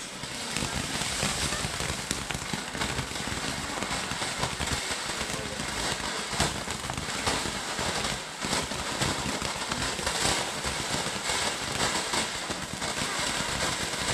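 A Venus firework fountain burns steadily during a November 5th Bonfire Night display, giving a loud, continuous crackling hiss with sharp pops scattered through it for the whole stretch, heard close.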